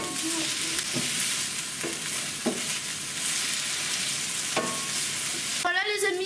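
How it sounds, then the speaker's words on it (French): Onions fry in a pan while being stirred, a continuous close sizzle punctuated by a few short scraping knocks, with a brief voice-like sound near the end. "les oignons sont bien revenus"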